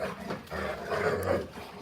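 Jack the dog grows vocal with growly barks and grumbling in a quick close burst, rising and falling over a couple of seconds, with no talk over it.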